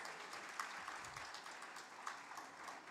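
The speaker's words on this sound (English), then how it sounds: "A big round of applause." Audience at a literary festival applauding a prize winner, a steady wash of clapping heard faint and distant for a few seconds.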